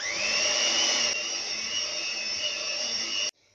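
An electric mixer whipping cream cheese frosting for a layered holiday cake, a loud steady high-pitched whine running close and unbroken before cutting off abruptly near the end.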